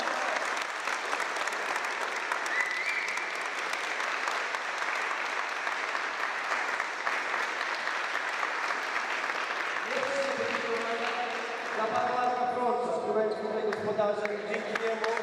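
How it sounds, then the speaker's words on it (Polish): Hall applause at the XX Memoriał Wiesława Gawłowskiego volleyball memorial event runs as a continuous, moderately loud wash of clapping, with a voice speaking over it near the end. "Proszę o brawa dla wszystkich."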